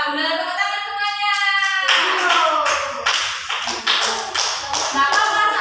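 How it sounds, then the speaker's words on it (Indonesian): A classroom of children clap their hands together in quick, loud bursts at close range, with a sung or spoken voice running over the start before the clapping takes over. "Tepuk tangan semuanya."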